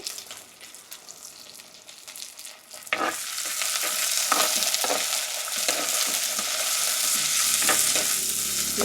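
Onions sauté in oil for a Jaffna-style fried fish curry, starting with a quieter hiss and soft stirring, then jumping to a loud, dense sizzle with repeated spoon scrapes, close up with no talking.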